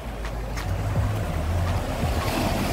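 Steady surf washes onto the beach at Praia da Azeda in Búzios, a continuous broadband roar with soft swells, fairly close, no one talking over it.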